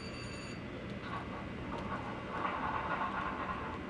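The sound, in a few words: HO scale model train BNSF SW1500 running on track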